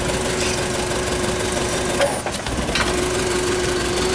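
Gasoline engine of a Toyota 42-6FGCU15 forklift, a 3000 lb lift truck, idling nearby with a steady, slightly knocking drone and a brief dip partway through.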